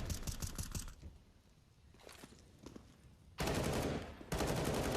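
Rapid automatic gunfire in Counter-Strike: Global Offensive: a burst of fast shots, a quieter gap with a few scattered reports, then two loud, dense sprays near the end.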